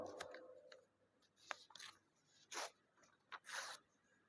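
Scissors cut through white burial shroud cloth during a demonstration in a mosque, giving several separate crisp snipping and rasping bursts with quiet gaps between them, close by and with no talk.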